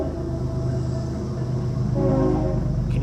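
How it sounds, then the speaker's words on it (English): A train rumbling steadily nearby, a continuous loud low drone with tonal hum and a faint horn-like tone rising toward the end, no voices. "can you hear the train?"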